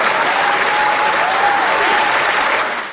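Studio audience applause, a dense, loud, steady clatter of many clapping hands sustained throughout and tapering slightly at the very end.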